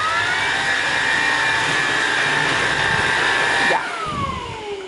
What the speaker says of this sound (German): Er hört sich wahrscheinlich über die Kamera trotzdem laut an, wie ein normaler Staubsauger halt.